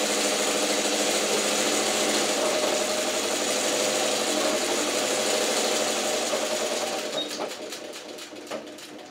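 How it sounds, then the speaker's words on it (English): A sewing machine stitching a straight seam down the middle of a quilt square along a drawn diagonal line: a loud, close, steady motor whir with rapid needle chatter that slows and trails off near the end. "So now I'm going to just sew down the middle, just kissing that long diagonal line I drew from point to point."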